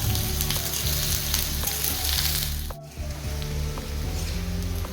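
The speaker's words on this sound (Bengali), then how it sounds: "বন্ধুরা, আলুগুলোকে ভালো করে ভেজে নেব।" Cut potatoes fry in mustard oil in a wok with a constant loud sizzle, broken by repeated scraping stir strokes and a brief lull midway.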